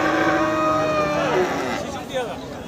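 A cow gives a long, loud, drawn-out moo up close at a livestock market in Thakurgaon, with a busy background of voices, haggling and market bustle.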